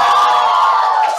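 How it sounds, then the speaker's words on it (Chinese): Studio staff at a livestream cheer together in a short, loud burst of voices, a brief sustained crowd whoop with no separate speech. "来，现场的所有同事喜欢向柳的欢呼起来"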